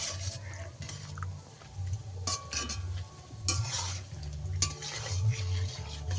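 Palm fruit fritters (taler bora) fry in hot oil with a soft sizzle, while a utensil stirs and scrapes against the pan in scattered clatters close by.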